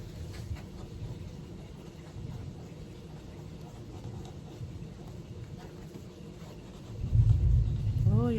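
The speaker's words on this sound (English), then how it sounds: "Oh, y'all hear that thunder?" Distant thunder rumbling outdoors in a Florida garden, a low continuous roll under faint background noise that swells louder near the end, with no talk.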